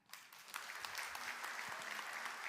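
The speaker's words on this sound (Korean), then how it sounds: "인사할 때 큰 박수 해주세요" Church congregation applauds a group of children, the clapping starting quietly, then quickly building into a steady, moderately distant round that carries on to the end.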